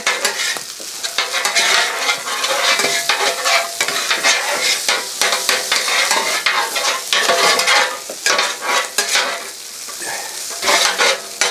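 Spatula edges chopping cooked eggs into pork fried rice on a Blackstone griddle, quick repeated metal taps and scrapes over a constant loud sizzle, close and continuous.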